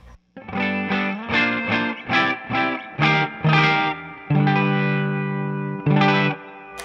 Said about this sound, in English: here is the sound of the Two Rock amp as it is, clean as a whistle-ish.